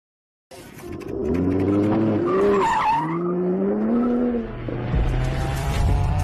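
A race car drifts on a circuit track with tires squealing through a long skid. The engine roars steadily underneath, and the squeal bends in pitch over several seconds before the motor revs again.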